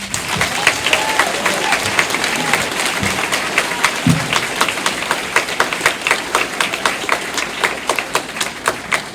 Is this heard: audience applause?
yes